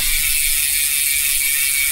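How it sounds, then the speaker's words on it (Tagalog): Speed 1 Torpedo MTB hub freewheeling, its ratchet pawls giving a steady, fast, fairly quiet buzzing click for the whole stretch, heard up close with no talking. "yan yung tunog ng Speed 1 Torpedo MTB hubs kapag naka-free wheel"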